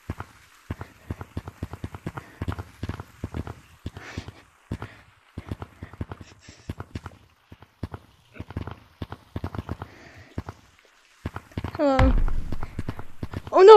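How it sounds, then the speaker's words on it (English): Rapid clip-clop footsteps of a player running in a video game, a fast steady patter of light hard steps throughout, with a louder burst of game sound near the end. "I heard your footsteps."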